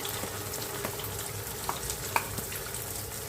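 Ground chilli spice paste for a kachori filling fries in a pan with a continuous close sizzle, marked by a few brief scraping clicks of stirring.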